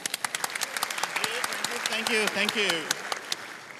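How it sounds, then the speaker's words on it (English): Audience applause at a football grand final breakfast, scattered sharp claps from a room of guests with a voice speaking over them. "Mr. Michael Chamberlin, keep the applause going, ladies and gentlemen."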